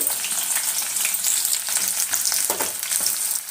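Green chillies sizzle and fry steadily in hot oil in a pan while cooking hotel-style potato kurma, a dense continuous crackle with occasional stirring scrapes, close and fairly loud, no voices.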